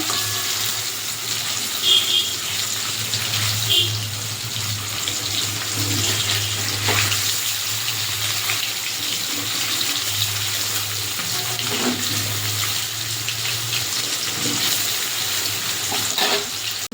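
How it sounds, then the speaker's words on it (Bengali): Paneer pieces fry in oil in a home kitchen pan with a soft steady sizzle throughout, joined by a low constant hum and occasional faint clinks. "পনিরটা একটু উল্টে দেবো, হালকা লালচে করে ভেজে নেব পনিরটা"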